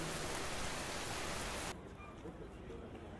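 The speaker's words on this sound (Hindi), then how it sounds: "बारिश हो रही थी" Steady rain falls across the open Chauk Bazar market in Bhopal, a dense, continuous hiss that drops suddenly in brightness partway through, becoming a softer, duller patter for the rest.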